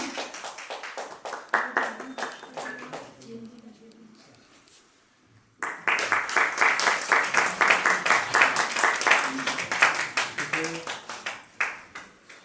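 Clapping from the audience at an annual literary festival's opening session in Prayagraj comes in two bursts. Scattered claps fade almost to silence, then a louder, rhythmic round of applause resumes and continues strongly.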